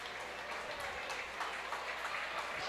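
Faint crowd applause for the winning horse at harness racing at the Champaign County Fair, a distant patter of clapping that carries on steadily for the whole stretch.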